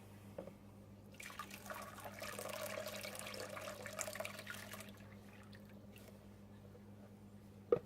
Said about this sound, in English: So now I'm going to add my lye water.